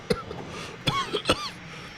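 Several harsh coughs in quick succession, close by, with a brief throat-clearing between them.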